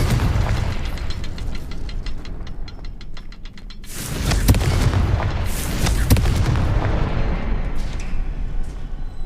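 A fire spell explosion in the Hogwarts Legacy video game on PS5 lands as a dense series of heavy booms and crackling blasts, loud and continuous, after a stretch of rapid rattling pulses.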